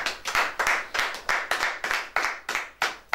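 A church congregation claps in acclaim of the Lord, about a dozen sharp, evenly spaced handclaps in a brisk steady rhythm, close and clear with no talk.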